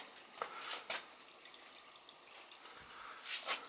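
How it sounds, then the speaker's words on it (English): Water runs faintly through a repaired cast iron drain pipe in a house, a soft steady wash with a few light drip-like taps, distant and quiet. "Alright, he's running the water now."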